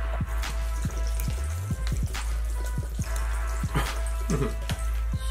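Water pours and trickles into a blender jar holding Bean Boozled jelly beans for a shake, with irregular splashes and drips over a steady low hum, close by.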